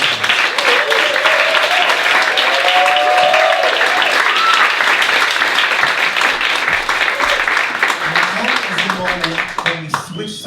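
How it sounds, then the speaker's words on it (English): Warm audience applause for a singer at a live cabaret show in the 54 Below club in New York City, dense clapping from a small crowd with scattered whoops and cheers, fading at the end. "So please give her a giant round of applause."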